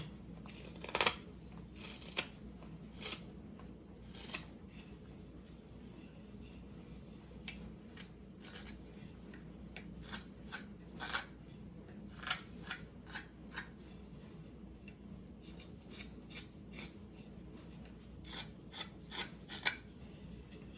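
A cheap wooden hobby board is hand-carved indoors, producing quiet, repeated rasping cuts and scrapes in irregular strokes with occasional sharper clicks, no voices.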